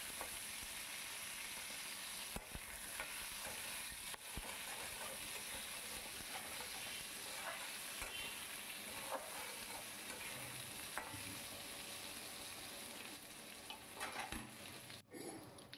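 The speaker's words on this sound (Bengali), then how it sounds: "এবার সুন্দর করে নাড়িয়ে চাড়িয়ে ভেজে নিতে হবে" Potatoes coated with turmeric and salt fry in a pan while being stirred, giving a steady, close sizzle for about sixteen seconds with occasional scrapes and knocks of the utensil, and no talking.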